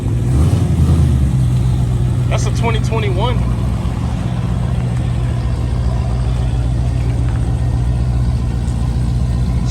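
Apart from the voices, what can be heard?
cammed 5.7L Hemi V8 engine of a Chrysler 300S revving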